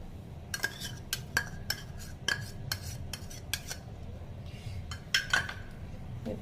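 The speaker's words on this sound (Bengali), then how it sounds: "এরপর ভালো করে আমটাকে মেখে নেব।" Mango pieces are mixed with salt, sugar and kasundi in a bowl, with a spoon clinking sharply against the dish in an irregular series of close, bright taps.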